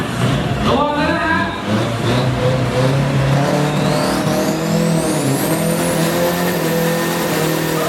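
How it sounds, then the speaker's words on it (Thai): A loud roaring Isuzu drag race car engine revs hard during a burnout with a rising, screeching tire squeal, continuous and close, amid crowd noise at a drag racing event. "แล้วเข้ามาในบริเวณจุดที่ จะต้องทำการเบิร์ยางระวังนะครับ"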